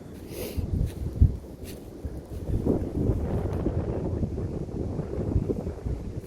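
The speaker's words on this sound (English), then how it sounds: "it is super windy up here" Strong gusty wind on a mountain roars and buffets the microphone, rising and falling in rough low rumbles with faint rustling, no one speaking.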